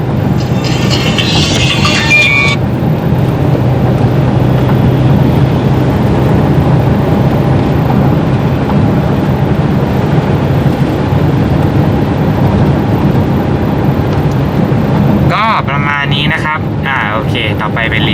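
Michelin Primacy 4 ST tyres roll on a concrete road at about 90 km/h, giving a steady, loud, unbroken roar with a deep rumble underneath that holds constant throughout.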